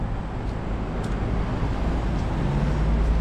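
Steady city traffic in Germany as cars slow and stop on a street, a continuous low rumble of engines and road noise at moderate distance, with no talk.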